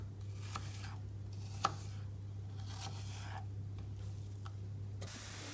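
A knife chops apples on a board for a caramel apple crumble, giving a few sparse, separate cuts over a steady low hum, with one sharper knock standing out partway through.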